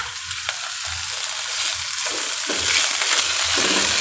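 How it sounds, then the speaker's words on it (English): Tomatoes sizzle and crackle steadily in a hot frying pan, close by, with occasional soft stirring and no talking. "Then you wait for it to sizzle or whatever."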